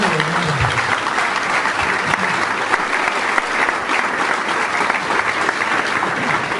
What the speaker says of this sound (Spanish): Un aplauso fuerte también para el hermano.